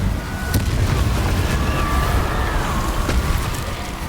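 Incendio fire spell cast in Hogwarts Legacy, a sustained roaring whoosh of flame with rumbling low-end, loud and steady for several seconds with faint crackles, no talk over it.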